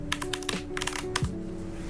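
A computer keyboard gets typed on in brisk, uneven clusters of crisp keystrokes, close and clear against a constant background hum, with no voices.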